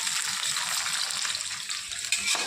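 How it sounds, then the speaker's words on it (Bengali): Onion fries in a pan, giving a loud, dense, continuous sizzle up close with a slight stirring knock near the end. "দেখো দেখো পেঁয়াজটা এটা আমাদের ভাজা হতে থাকো"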